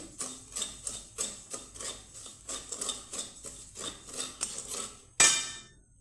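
Salt being dry-roasted in a pan for chira, with a spatula scraping and knocking against the pan in a steady rhythm of about ten strokes, close and clear, ending in one louder clatter.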